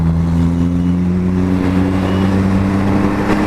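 A Kawasaki Ninja 1000 motorcycle passing close by, its loud engine drone rising in pitch as it accelerates, heard over the steady hum of another engine.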